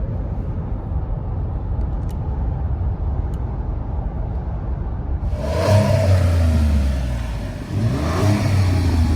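A 2021 Ford F-150 Lariat FX4 pickup with an EcoBoost engine accelerates hard, a steady rumbling drone that swells into a loud, rising rev midway and stays strong to the end.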